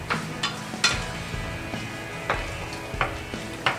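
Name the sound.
stirring barbecue sauce into ground venison in a pan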